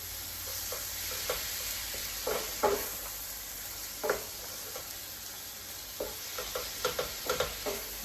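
Tomatoes softening in a hot pan, giving off a steady low sizzle with scattered pops and spatters and occasional soft stirring clicks, close up and with no talk.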